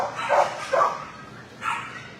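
A dog named Titus barks several times at a shelter walkthrough, with two close loud barks in quick succession followed by a third after a short pause.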